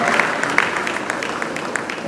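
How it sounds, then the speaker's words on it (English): Brief applause from an audience at a tribute event, a steady patter of many hands clapping with a few sharper individual claps standing out, close and moderately loud. "Please, round of applause for"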